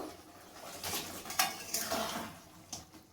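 A utensil scrapes and clatters against a pan while chilli paneer with fried paneer pieces and kasuri methi is stirred; a few distinct knocks and scrapes over a faint sizzle, quiet, with no voices.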